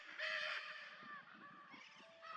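An endangered Brazilian parrot near its breeding grounds gives a drawn-out, harsh screeching call, then quieter follow-up squawks, fairly close, over faint background chatter of other birds.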